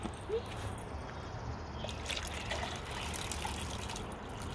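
Water is poured onto potted plants, making a steady trickle and splash close by. A person speaks over it.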